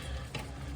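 Dry spices being stirred into potatoes frying in a pan, a steady sizzle under one brief scraping stir of the utensil, close and moderately quiet.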